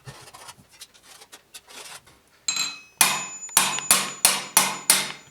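A metal bracer blank struck with a hammer along a scribed line, first soft scattered taps, then a run of about six loud, evenly spaced ringing blows close by, each with a short metallic decay.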